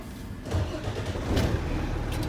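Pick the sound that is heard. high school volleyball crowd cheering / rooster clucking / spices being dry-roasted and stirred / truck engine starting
truck engine starting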